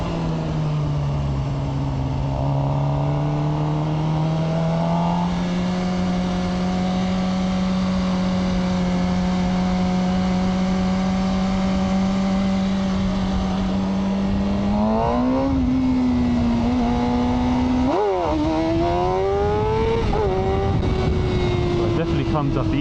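Suzuki GSX-R motorcycle engine droning steadily at high revs while riding laps, with a loud continuous tone that climbs in pitch through throttle changes, dipping and rising again near the end.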